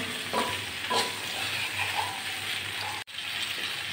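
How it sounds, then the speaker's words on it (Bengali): Potato and pointed gourd fry in a pan with a steady close sizzle, broken by a few soft stirring scrapes and one brief dropout near the end. "আলু পটলটা আমি ভালো করে ভেজে নিচ্ছি"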